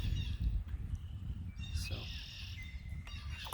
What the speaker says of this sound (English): birds in the morning make my day